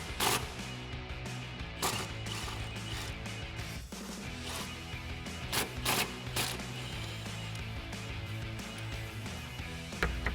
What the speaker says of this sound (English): now we'll remove our 2 upper shock mount bolts using our 16mm socket